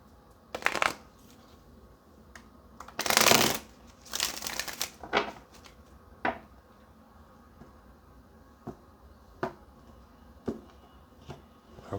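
Tarot cards are shuffled in bursts: quick riffling flutters and slaps, a few longer shuffles near the start and middle, then scattered single card snaps in a quiet room.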